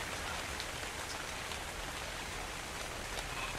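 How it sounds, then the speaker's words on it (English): Steady, loud rain pours down throughout in the video game Dark and Light, a dense hiss of drops with no pauses and no voices. "I think that rain is loud."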